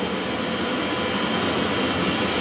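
A jet fighter lands in an F-16 flight simulator game, its engine a continuous loud, broadband roar with a steady whine that holds even throughout, with no talk over it.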